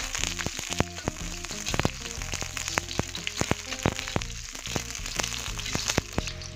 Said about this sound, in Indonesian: Ini minyaknya sudah panas. Kita masukkan bawang merahnya. Kita tumis sampai mengharum.